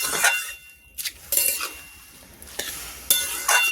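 A metal utensil knocks and scrapes against a pan while stirring cabbage with salt and turmeric, making a few loud clinks and rattling bursts separated by short quiet gaps.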